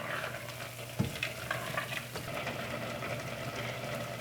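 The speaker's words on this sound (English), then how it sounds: "Stir your syrup." Pineapple syrup is stirred in a pot beside a hot pan, with a soft continuous sizzle and bubbling, one distinct knock of a utensil, and a few light scrapes, with no voices.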